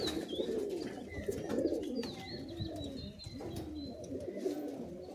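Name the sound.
giribaz pigeons cooing at a breeder's house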